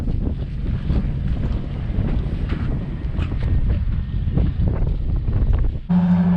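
Hovercraft operating on water during a spring flood, a broad roaring rush mixed with heavy wind buffeting, steady and fairly loud before changing near the end to a sharper tonal hum.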